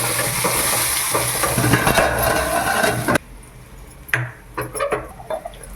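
Loud, steady sizzling of spices and leaves tempering in hot oil for a drumstick-leaf chutney, which cuts off abruptly, followed by a few faint clinks and stirring sounds.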